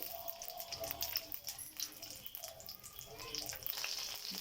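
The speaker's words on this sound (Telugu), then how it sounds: "వీటిని ఇప్పుడు నూనెలో ఫ్రై చేద్దామండి." Sweet corn sticks sizzle and crackle in hot oil, a dense, continuous frying hiss with scattered pops, close and fairly quiet, running steadily without pause.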